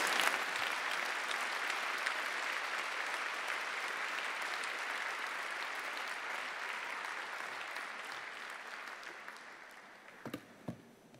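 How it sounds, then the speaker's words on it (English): A large audience applauds graduates at an Imperial College postgraduate ceremony, a long, dense wash of clapping that fills the hall and slowly thins, ending in a few scattered claps and knocks. "Please join me in a round of applause for all the graduates"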